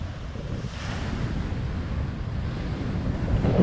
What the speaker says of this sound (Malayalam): ഇവിടെ കടൽ ഭിത്തി ഇല്ല ഇതിലൊക്കെ നല്ലപോലെ വെള്ളം അടിച്ച് കയറുന്ന സ്ഥലമാണ്